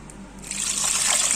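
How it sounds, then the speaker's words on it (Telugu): Water is poured into a pan of fresh homemade ghee, a short bright trickling splash that swells and continues steadily close by. "ఇప్పుడు దీంట్లో వాటర్ పోసుకున్నాం"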